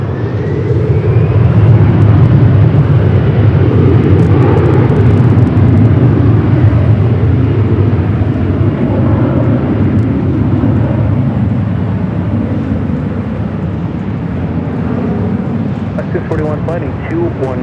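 A plane taking off from a runway at LAX, heard as a loud, steady, broadband jet roar that fills the whole stretch without letting up.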